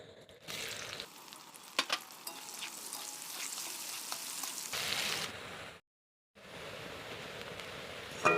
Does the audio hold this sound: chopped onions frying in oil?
yes